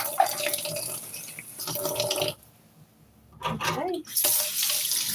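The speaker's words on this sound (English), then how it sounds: "I'll always like rinse them off real good with a little bit of soapy water" Running tap water splashing over dishes being rinsed in a kitchen sink with a little soapy water, loud and close, breaking off into a brief pause before the flow resumes, with a short spoken word partway through.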